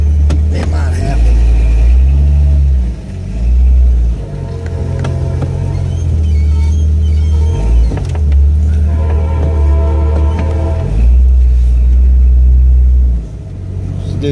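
A car being road tested with a 60mm throttle body drones and rumbles close by, its engine rising and dipping as it accelerates and eases off several times, with occasional background noise.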